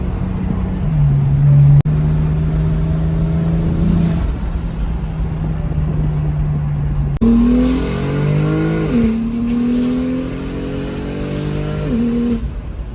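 BMW F82 fitted with a top-mount single turbo revving hard on a dyno, loud sustained engine roar climbing through pitch in two long pulls, with gear-like steps and sharp rises near the end.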